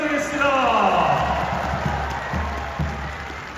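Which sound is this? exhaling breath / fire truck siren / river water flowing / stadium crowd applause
stadium crowd applause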